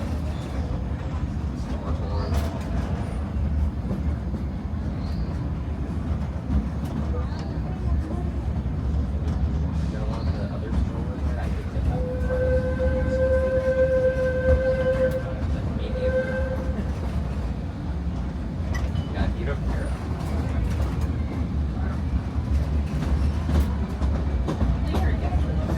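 The Disneyland train rumbles steadily along its track at night approaching Tomorrowland Station, with a brief two-tone horn or chime sounding midway and faint voices in the background.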